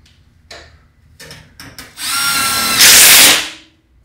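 A power drill drives screws into a joint of 4-inch galvanized pipe: a few short taps and bursts, then a loud sustained whir that rises in pitch before stopping.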